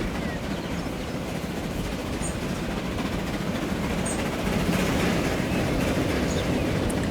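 A passenger train passes in the railway video game Transport Fever 2, its wheels rumbling and clacking steadily as it draws nearer and grows louder, with faint high chirps above.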